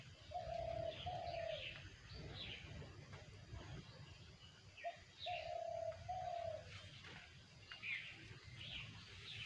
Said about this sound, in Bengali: সকালবেলা তো কী সুন্দর পাখি ডাকে পাখির ডাকগুলি শুনতে অনেক ভালো লাগে